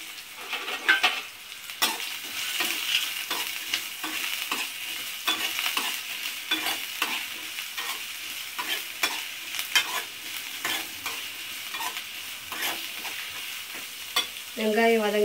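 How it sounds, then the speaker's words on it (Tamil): Onions fry in hot oil with a steady, dense sizzle while a spoon scrapes and stirs them in rapid, uneven strokes, close and moderately loud, with no voices. "எண்ணெய் காஞ்சிருச்சு, வெங்காயம் போடுறேன்."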